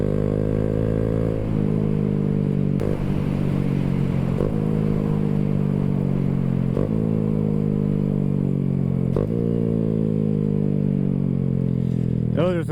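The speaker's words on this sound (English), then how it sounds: "Those are some clean downshifts" A Honda Grom motorcycle, a small air-cooled bike, drones loudly and close while riding, its engine note dropping in pitch several times with distinct downshifts spaced a few seconds apart.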